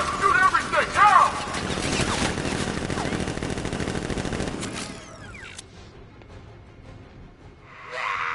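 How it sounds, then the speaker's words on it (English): Rapid gunfire from guards in Batman Arkham Knight, a dense fusillade of automatic shots loud up front for about five seconds, then trailing off into quieter ricochet-like whistles and scattered noise. "Guards! Open fire! Shoot everything!"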